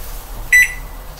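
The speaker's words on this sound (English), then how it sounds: "if you're hearing that beep, I'm just setting a timer" A microwave oven gives a single short, clear electronic beep while its timer is set, brief and close against a quiet room.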